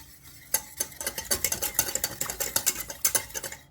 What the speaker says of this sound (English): You want to stir it here and now, every now and then.